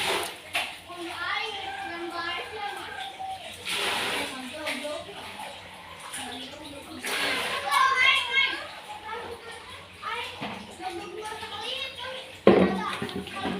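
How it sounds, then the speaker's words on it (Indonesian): Several small children play noisily inside a house, their chatter and shouts rising and falling continuously, with splashing water close by and a sharp knock near the end. "Maaf mungkin agak sedikit berisik ya, banyak anak kecil di rumah lagi main FF."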